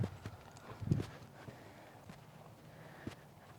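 Horse hooves stepping over ground poles during a neurological exam, a few soft uneven thuds and clops at a slow walking pace, fairly close over quiet background noise.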